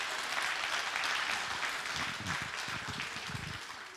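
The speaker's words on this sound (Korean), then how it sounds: "박수 좀 쳐요. 박수 좀." A church congregation at a Friday evening service claps together, with a steady, moderately loud wash of hands that carries on throughout and has no talk over it.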